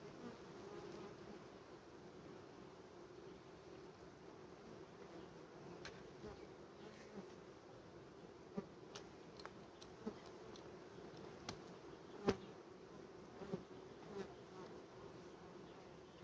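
Honeybees hum steadily around a hive during work, a faint, even drone with occasional louder buzzes as single bees pass close, and no talking.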